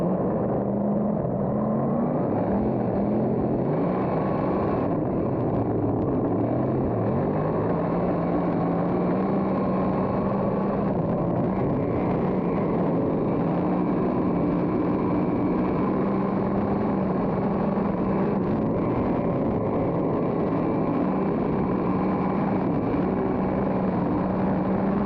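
A race car runs hot laps on a track, heard as a loud, continuous engine drone from inside the car that holds steady throughout with slight surges.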